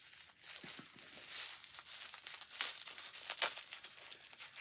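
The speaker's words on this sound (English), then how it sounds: "you're going to get crinkling because there's no other way to do this" Wrapping material crinkling and rustling close up as a package is opened, irregular crackles with sharper bursts near the end.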